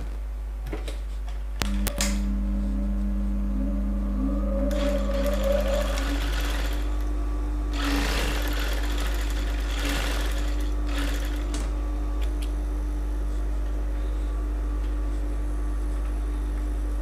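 A sewing machine stitches a bust dart on a bodice, running in a steady, loud whirring drone under an even lower hum, with a brief clunk near the start and no talking.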